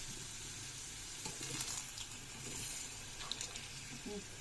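Potatoes frying in a pan of oil at home, giving a steady close sizzle with occasional stirring clatter and small pops, no talking.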